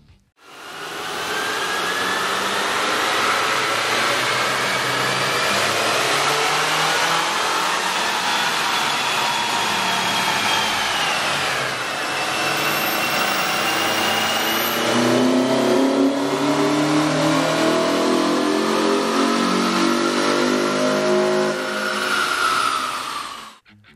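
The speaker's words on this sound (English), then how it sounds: "we ran the vehicle on the dyno to test the sound comparison versus the stock intake" Toyota Camry 2.5L engine on a dyno with an aftermarket air intake, running close and loud, revving up and down through long sweeping pulls with a strong whooshing intake roar and no talking.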